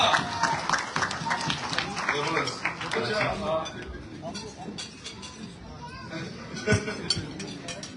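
Audience clapping at a meet-and-greet with Pakistani cricketers, mixed with crowd chatter and babble; the scattered claps run for several seconds at moderate loudness under a busy room.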